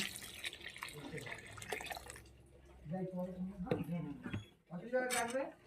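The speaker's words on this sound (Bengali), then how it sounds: "এই পর্যায়ে আমি পরিমাণ মতন জল দিয়ে দেব" Water pours for about two seconds into a pot of red lentil dal with green chilies, radish, tomato and coriander, a steady splashing rush, followed by close voices talking.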